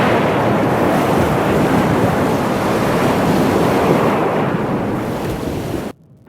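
Steady, loud roar of ocean surf washing onto a shore, a dense wash of breaking waves mixed with wind buffeting the microphone, continuous for about six seconds before cutting off abruptly.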